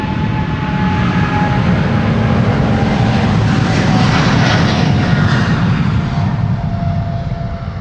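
A KLM Boeing 777-200 jet departs Amsterdam Schiphol Airport on a sunny day, its engines a loud, steady, continuous roar that holds throughout.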